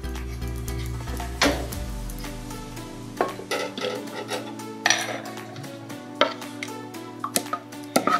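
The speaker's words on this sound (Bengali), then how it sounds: "আবার আমি একইভাবে চাটুর মধ্যে ঘি লাগিয়ে নিচ্ছি।" Ghee being spread across a hot chatu griddle while making patishapta pitha, a sizzling base under repeated light scraping and clinks of a utensil against the metal, close and fairly quiet.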